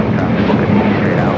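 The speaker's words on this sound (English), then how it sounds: "1723 taking off to Guadalajara on the A320neo" A Volaris Airbus A320neo takes off from LAX, its jet engines a loud, dense roar that holds steady for the whole short stretch, with a faint voice mixed in.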